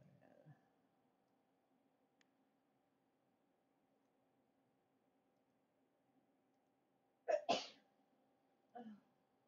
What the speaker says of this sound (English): I was leaned over when I sneezed